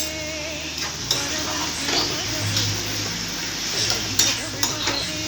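Sauces such as chilli, soy and schezwan sautéing in a pan, a steady near sizzle with scraping stir strokes and a few sharp utensil clicks against the metal.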